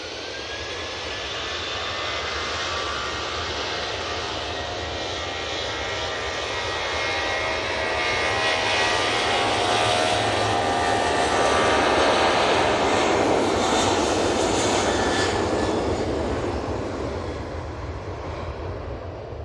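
A long-haul airliner landing at Manchester Airport roars in loud and near, with whining turbine tones over a broad jet rush that swells toward the middle and eases slightly at the end.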